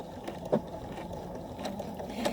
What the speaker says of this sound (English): I'm just going to go ahead and stitch